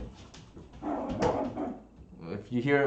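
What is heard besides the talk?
mini Australian Shepherd dog barking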